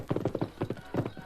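Horse hooves clip-clop in quick, uneven clusters of hollow knocks, fairly close and moderately loud.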